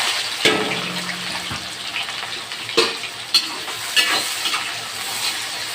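Mustard seeds and fenugreek fry in hot oil with onions, giving a steady, close sizzle with scattered sharp pops and crackles.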